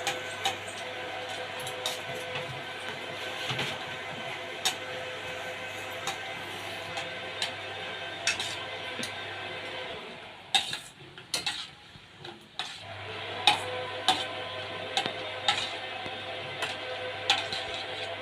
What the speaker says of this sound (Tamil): மிதமான சூட்டில் வரமிளகா போட்டு பொரித்து எடுத்துக்கோங்க.